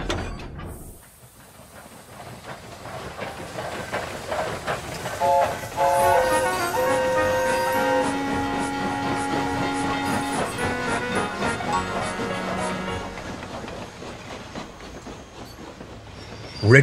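A goods train shunts milk tankers in a goods yard: rumbling wagons, rhythmic clickety-clack of wheels over joints and high, sustained squeals of wheels on rails build and persist, with a hiss of air, and no talking.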